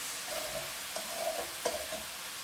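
A spatula stirs a celery and potato dish frying in a pan, with a few quick scraping strokes over a soft, steady sizzle, close up and with no talking.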